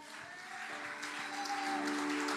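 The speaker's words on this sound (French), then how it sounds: "Acclame Jésus pour ça" A church congregation applauds Jesus, a dense, steady wash of many hands clapping that swells slightly and holds throughout, heard from within the crowd.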